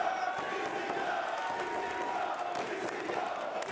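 Sold-out crowd at a Game Changer Wrestling event in Los Angeles, a steady roar of cheering and shouting filling the arena, with a commentator talking over it.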